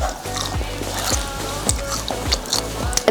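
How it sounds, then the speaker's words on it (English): Crunching bites of crispy brined roast duck skin coated in sweet sauce, a rapid series of close, regular crisp chews with little else audible. "Can you hear the crunch?"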